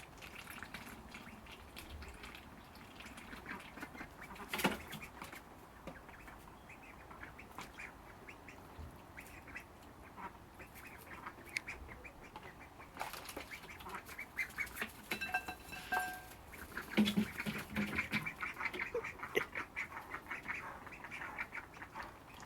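Three ducks kept alongside backyard chickens quack intermittently at moderate distance, with scattered bursts of calls and bird chatter over a steady outdoor background.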